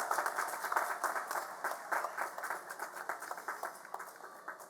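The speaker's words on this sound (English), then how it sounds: "Please let us have another round of applause for our master's degree graduates." Audience applause for master's degree graduates at an Elizabethtown College commencement ceremony, a steady wash of many hands clapping from a distance, moderately faint and continuous.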